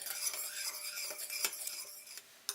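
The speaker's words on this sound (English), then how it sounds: "Stir until the sugar has dissolved and simmer for 2 to 3 minutes" Mirin, sugar and soy sauce being stirred in a pan for a soy-pickled egg marinade, a steady close scraping and clinking of a utensil against the pan with a bright metallic tap near the end, no voices.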